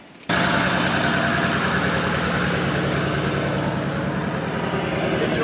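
A vehicle engine on Dirk Hartog Island starts abruptly and then idles steadily, loud and close, with a constant low rumbling drone.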